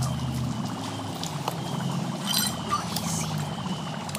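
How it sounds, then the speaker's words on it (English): Soapy water poured onto dry ice, giving a continuous rushing, bubbling hiss with faint scattered pops and trickles, fairly loud and steady throughout. "We're going to try pouring soapy water on this."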